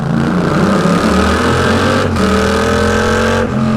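A Yamaha R7 sport motorcycle engine roars loudly and steadily, its pitch climbing as it accelerates, with a brief dip midway before pulling hard again.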